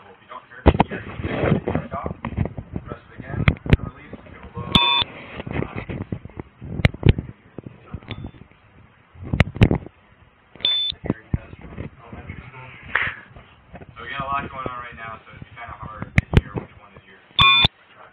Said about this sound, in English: there's a lot of beeps that might be a little hard to hear which one was yours